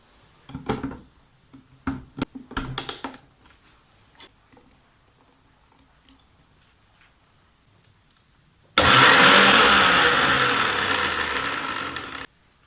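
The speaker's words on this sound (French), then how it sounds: "Là, on a pris un mixeur. Et là, on va mixer les menthes." Electric blender whirring loudly as it blends mint leaves, a dense sustained roar starting abruptly after scattered clicks and knocks and running steadily for a few seconds before cutting off.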